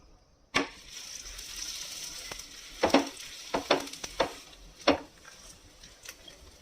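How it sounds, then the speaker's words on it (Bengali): Methi paratha fries in a little oil on a pan, a low steady sizzle broken by several sharp crackles and pressing taps spaced irregularly across the clip. "একটু লাল লাল করে চেপে চেপে এটাকে ভেজে নিলাম"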